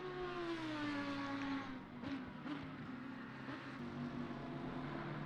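An Audi GT race car in a sim racing game at Spa drives at speed, its engine note high and steady and then easing off, with brief tyre and gear-change transients, loud and close throughout.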